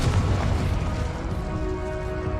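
Confringo spell explosions in Hogwarts Legacy, a dense continuous booming blast with heavy low rumble, loud and sustained with no clear gaps.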